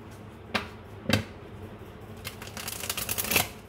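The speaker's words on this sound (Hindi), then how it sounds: "मैंने शफल कर लिए कार्ड्स" A deck of tarot cards is shuffled by hand, with two sharp riffles followed by a quicker run of soft flicking card sounds. It is quiet and close, with no voice.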